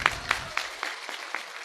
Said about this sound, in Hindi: एक बार जोरदार ताली गुरु जी को।